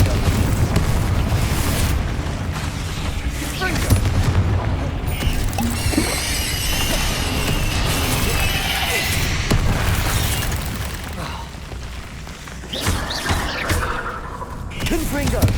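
Fire spell explosions in Hogwarts Legacy, deep booming blasts and crackling bursts stacked over dense game combat noise, loud and continuous throughout.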